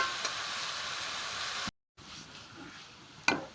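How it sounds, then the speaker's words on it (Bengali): Taro strips fry in hot oil over high heat with a continuous close sizzle. The sizzle breaks off briefly, then returns a little quieter, and a sharp clink or stir comes near the end. "এটা আমি তেলে হাই হিটে ভেজে নিচ্ছি"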